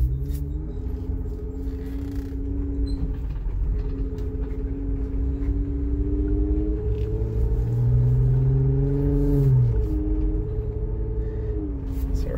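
A geared Jeep JL Rubicon engine drones steadily as it cruises through the gears on a highway, a low rumbling hum whose pitch rises and falls with each shift, while the driver talks over it.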